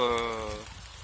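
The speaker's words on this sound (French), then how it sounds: "il y a une petite averse de grêle et de pluie" A short, light shower of hail and rain falls outdoors during a metal-detecting outing, making a steady, soft patter. A voice is briefly heard at the very start.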